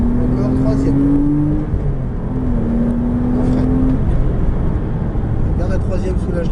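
A Porsche Cayman S on the Chenevières race circuit accelerates with a steady, loud engine drone whose pitch climbs through a gear, while a man coaches the driver in French over the engine.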